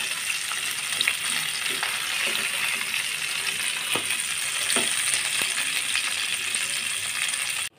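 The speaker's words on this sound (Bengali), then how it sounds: "মাছগুলো আমার ভাজা হয়ে গেছে। আমি মাছগুলো এখন এক এক করে তুলে নেব।" Small sarpunti fish frying in hot oil, a steady close hiss of sizzling that runs evenly throughout, with a few faint clinks and scrapes of a utensil against the pan and no talk.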